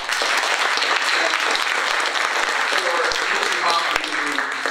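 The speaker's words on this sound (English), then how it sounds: "ask for a round of applause for all of these presenters here" Steady, dense crowd applause for presenters at a Holocaust remembrance event, filling the short span evenly and loudly from start to finish.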